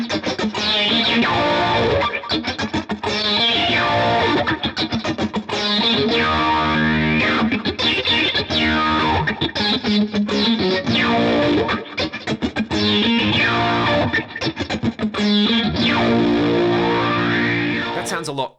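Electric guitar through a drive pedal into a TouchWire envelope filter, the filter following the raw DI signal. Loud, continuous distorted playing with repeated swept wah-like filter motion that opens and closes with each picked phrase.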